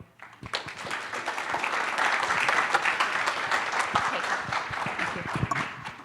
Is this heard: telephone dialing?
no